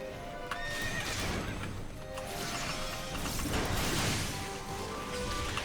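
A horse in the Final Fantasy XIV dungeon Dohn Mheg neighs and whinnies loudly, with clip-clop hoofbeats and game effects running throughout.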